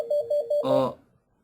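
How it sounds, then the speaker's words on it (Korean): A phone rings with an incoming call: a repeating electronic ringtone of three short tonal beeps, then a longer, richer chime, loud and close, with no talk over it. "전화가 왔네요."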